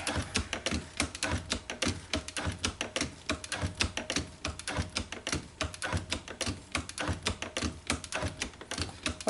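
A shop-built hand shaper cuts metal, its tool scraping in a steady, rapid series of clattering strokes that repeat evenly and stay close and fairly quiet, with no talking.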